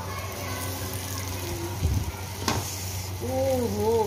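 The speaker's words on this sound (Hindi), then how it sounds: "ये हमारी दूसरी भी फ्राई हो गई है, अब ये हमारी तीसरी मछली को भी आराम से निकालेंगे" White pomfret coated in masala sizzles as it fries in hot oil, a steady close crackle broken by a couple of utensil clatters, with a voice speaking faintly toward the end.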